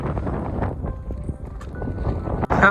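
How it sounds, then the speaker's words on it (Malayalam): Gusty wind buffets and roars in uneven bursts, loud and close, driving rain and mist across Koonichimala mountain, with rain implied in the rushing noise. "മഴ ഇങ്ങനെ കാറ്റടിച്ച് കൊണ്ടുപോകണതാണ് കേട്ടോ"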